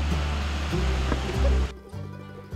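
A clear mountain river in Taiwan rushes in a steady broadband wash that cuts off abruptly near the end, leaving quieter water and low hum.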